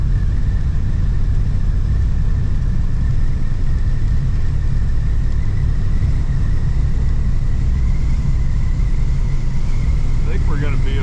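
A 1964 Oldsmobile 98 cruises on a mild December road, a steady loud engine rumble and road roar filling the cabin, with a faint whine rising as it moves through its gears.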